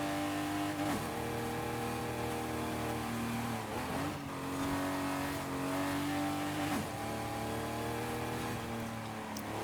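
A race car in Forza Horizon 5 roars at a steady high pitch, with a loud continuous drone that dips and climbs again at gear shifts roughly every three seconds, and tires briefly squeal.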